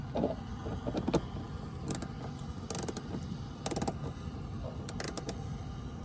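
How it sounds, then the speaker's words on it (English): Bolts being unscrewed on a Hyundai Elantra N, with ratchet clicks and mechanical rattles in short bursts over a steady low background hum, close by and without speech. "the first thing we're going to do is just remove these two bolts"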